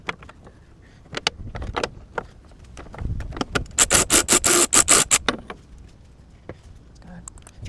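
Valve cover gasket on a 2010 Mitsubishi Lancer GTS being pressed and worked into place at a corner: a series of close rubbery squeaks, rubs and scrapes, clustered in a busy burst midway, with brief faint handling noises around them.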